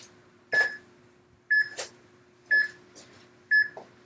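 A workout interval timer beeps four times at steady one-second intervals, each a clear electronic chirp sounding close and alone.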